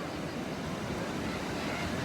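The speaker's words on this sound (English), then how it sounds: "these waves are picking up as they're coming across the sandbar" Ocean surf breaks over a sandbar near jetty rocks in a steady, dense roar of churning water, with wind buffeting the microphone throughout and no voices.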